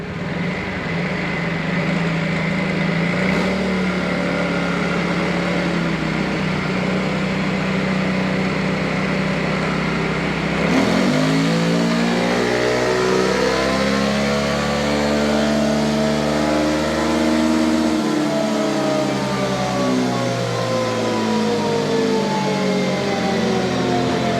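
A Forza 350 scooter engine fitted with a 2K2 CVT pulley drones loudly and continuously for about 24 seconds, its pitch climbing, then falling and rising again, with no voices.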